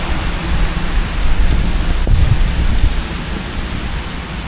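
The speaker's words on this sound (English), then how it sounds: "It's only raining it. It's starting to get wet" Steady rain falls outdoors, a loud, constant hiss of drops close by with a low rumble underneath, running without pause and with no voices.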